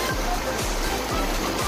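Continuous rushing water fills the clip at Nakulian Falls, a steady broadband roar like a nearby waterfall.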